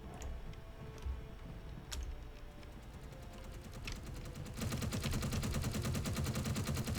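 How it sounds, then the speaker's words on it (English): Automated turrets firing at enemies in the Space Engineers video game: scattered sharp shots at first, then rapid continuous machine-gun bursts rattling steadily and growing louder toward the end. "there's some automated turrets here that are keeping the enemies at bay"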